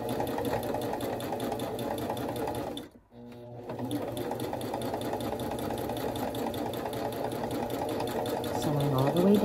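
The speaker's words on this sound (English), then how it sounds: "Sewing all the way down." A sewing machine stitches down the slotted pages of a scrappy journal, running in a steady, close mechanical whir that pauses briefly and then resumes, growing louder toward the end.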